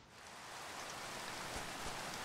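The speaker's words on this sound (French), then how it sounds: "Et du coup, il pleut." Steady rain falls in Minecraft, a dense, even hiss that swells slightly in the first moment and then holds loud and continuous throughout, with no other sounds.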